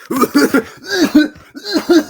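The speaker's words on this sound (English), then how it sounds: "coughing on his own phlegm" A man coughs repeatedly on his own phlegm, a loud, close series of wet, throaty bursts in several quick groups with short pauses between, no talking.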